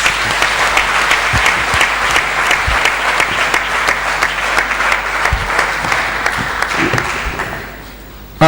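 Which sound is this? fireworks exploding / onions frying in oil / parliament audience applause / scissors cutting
parliament audience applause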